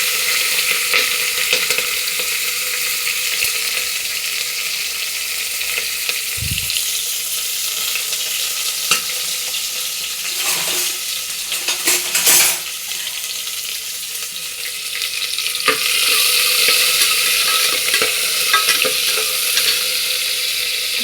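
Steady sizzling of spices, including cardamom, frying in hot oil for vegetable biryani, continuous and close, with a few brief clinks and stirring sounds.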